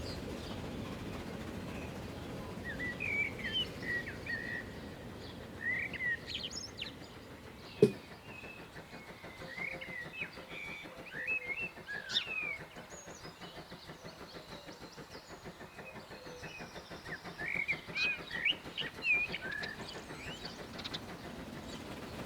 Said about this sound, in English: I do like the sound of the wood pigeons in the background